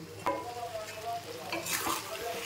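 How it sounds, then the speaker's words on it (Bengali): Mutton masala being stir-fried in a pan, with a soft continuous sizzle and repeated scraping strokes of a spatula close by, at a moderate, fairly quiet level. "এবার এটাকে কষাতে থাকবো, ততক্ষণ কষাবো যতক্ষণ পর্যন্ত মশলা থেকে আরও একবার তেল না ছাড়বে"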